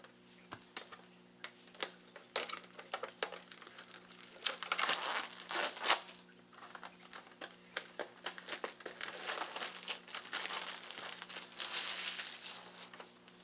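Plastic wrap is cut and peeled off PS1 jewel cases with small scissors, giving close, irregular crinkling and crackling that comes in bursts and swells louder midway, with no talk.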